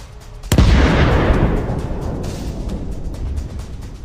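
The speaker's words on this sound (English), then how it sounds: "drops the grenade at just the right moment, causing a powerful explosion" A grenade explodes on a tank with a sharp, loud blast after a brief lull, then decays into a long, rumbling roar that lingers for several seconds.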